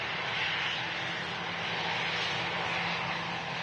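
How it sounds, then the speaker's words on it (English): An EasyJet Airbus A320 jet airliner arriving from Pisa gives off a loud, steady broadband roar and rush that holds level throughout, close by at an airport, with no one talking. "EasyJet in from Pisa. 2-hour, 20-minute flight."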